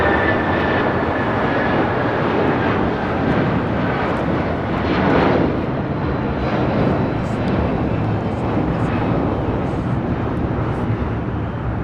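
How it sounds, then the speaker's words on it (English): A United Airlines Boeing 757-200 jet takes off, its engines roaring loud and steady for the whole stretch with a broad, continuous rumble and a faint high whine. "The United 757-200 taking off"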